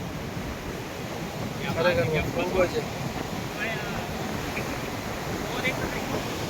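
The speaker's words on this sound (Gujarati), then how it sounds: "અહીં તમને કમ્પલસરી દેખાશે અને જે ઉછાળો મારે રહ્યો દરિયો" Rough sea waves surge and crash continuously along the Dwarka coast, a dense close roar of surf mixed with wind noise, while someone speaks over it.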